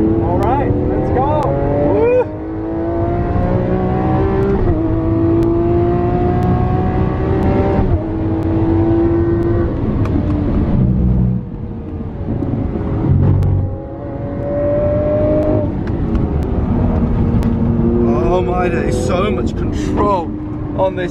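A Lamborghini Aventador engine roars and revs hard through repeated accelerations and gear changes on the Silverstone track, loud and close throughout, with a voice talking over it.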